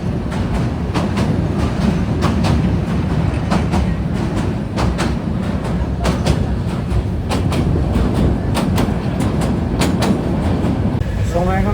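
Train rolling over the Bhairab bridge toward Chattogram, with a loud steady rumble and rhythmic clickety-clack of wheels on rail joints heard from inside a carriage.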